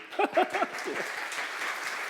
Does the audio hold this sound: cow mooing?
no